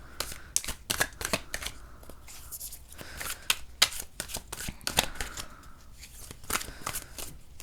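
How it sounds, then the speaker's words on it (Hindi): A deck of tarot cards is shuffled close up in quick, irregular bursts of riffling and flapping, crisp and fairly quiet, with no one speaking. "तो कार्ड्स को मैं आपके शफल कर रही हूँ।"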